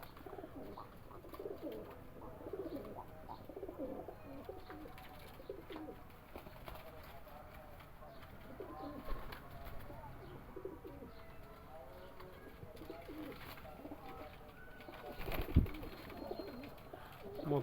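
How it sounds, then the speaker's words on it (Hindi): Kasuri pigeons kept for sale in Lahore coo softly and steadily at close range, with faint background noise and occasional rustling throughout. "लाल आँखों का कबूतर है, कसूरी प्योर हालत में।"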